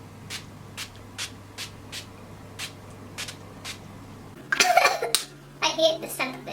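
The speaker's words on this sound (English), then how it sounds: "I'll go ahead and use this setting spray" A few sharp hissing bursts of makeup setting spray close by, with short pauses between them, after a stretch of quiet tapping and faint background hum.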